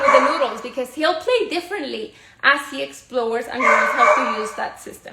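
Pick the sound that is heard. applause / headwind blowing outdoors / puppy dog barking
puppy dog barking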